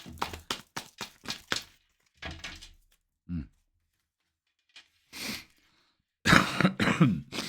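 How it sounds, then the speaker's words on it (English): Several sharp coughs and throat-clearing bursts in quick clusters, separated by short silences, close to the listener. "Don't cough like that during readings."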